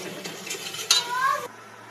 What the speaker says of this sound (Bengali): এটা দিয়ে আরও 1 মিনিট কষিয়ে নেব।